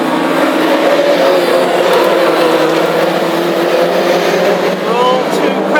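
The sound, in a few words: classic hot rod race cars revving on track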